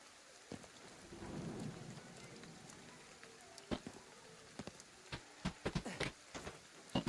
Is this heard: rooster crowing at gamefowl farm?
no